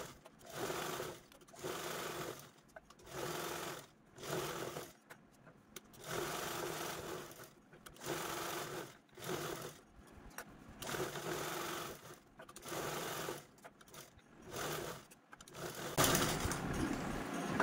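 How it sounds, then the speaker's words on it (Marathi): Sewing machine quilting diagonal stitches through layers of fabric from a leftover gown, in bursts of steady whirring stitching about a second long, separated by short pauses, close and fairly quiet. "आपण यावरती तिरपे टिपा मारून क्विल्टिंग करून घेतली"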